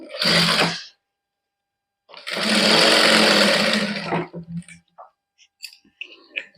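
A sewing machine stitches fabric for a salwar suit neckline in two close, loud bursts, a short run and then a longer one, followed by scattered light clicks and handling sounds.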